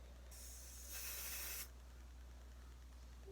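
A short burst of hairspray from an aerosol can hisses for about a second and a half, close and fairly soft against a quiet room, then stops; no talking.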